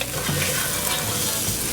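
Carnaroli rice is stirred in hot oil with shallots in a pan, giving a steady, close sizzle with soft scraping under it and no voices.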